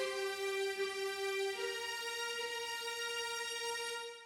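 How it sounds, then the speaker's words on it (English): The string section of the Avengers Endgame theme, from an arrangement built around guitar: a sustained, harmonically rich chord that holds steady without talk, shifts pitch slightly midway, then fades out at the end. "And now I'll show you the strings."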